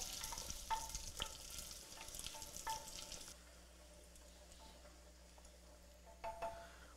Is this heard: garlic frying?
yes